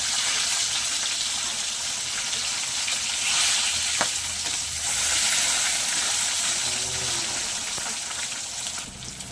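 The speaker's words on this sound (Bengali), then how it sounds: "তেলের মধ্যে একটু লবণ হলুদ দিয়ে মাছগুলো দিয়ে দিয়েছি" Rohu fish fries in hot oil with a steady, loud sizzle and crackle, plus a brief clink of a utensil partway through.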